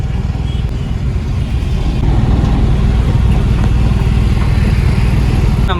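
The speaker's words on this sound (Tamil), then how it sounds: "எப்பா டிராஃபிக், செம்ம டிராஃபிக் இன்றைக்கி." A vehicle drives through heavy traffic on a Chennai road near CMBT, approaching a flyover, with a loud, continuous rumble of engines and road noise close by and no clear talking.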